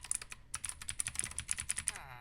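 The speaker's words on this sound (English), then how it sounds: "I'm hitting the keys now." Keys clack on a mechanical keyboard with brown switches, a quick run of crisp, close taps with short gaps, heard alone without talk.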